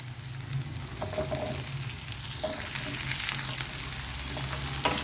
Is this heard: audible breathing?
no